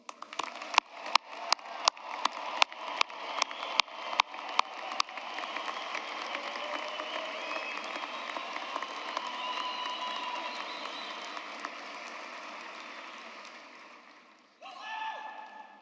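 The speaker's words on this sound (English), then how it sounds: "I request that everyone join me in giving them a round of applause" A few scattered claps swell into sustained applause from a large crowd at a university graduation ceremony, holding steady for several seconds before fading out, followed by a brief rustle.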